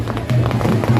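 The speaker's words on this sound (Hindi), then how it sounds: "आतिशबाजी की आवाज़ भी आपको सुनाई दे रही होगी।" Fireworks crackle and thud through a festive Ganpati immersion procession, a dense run of bursts and pops over loud crowd noise, with voices mixed into the din.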